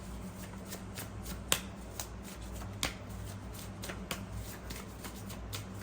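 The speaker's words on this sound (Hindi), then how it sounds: "चलिए एक कार्ड और लेते हैं इसी डेक से।" A deck of cards is shuffled by hand, producing soft continuous riffling with several sharper snaps spaced through the quiet, close-up sound.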